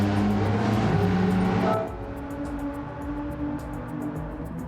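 A Group B Ford Focus race car in the Gran Turismo 7 racing game, its engine roaring loud and steady, then dropping to a lower, quieter drone.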